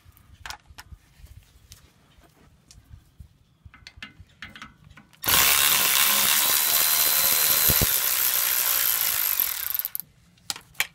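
Wrench working a brake caliper fastener on a 2017 Ford Transit van's rear brakes: scattered light metallic clicks and taps, then several seconds of loud continuous mechanical whirring and grinding close by that stops abruptly.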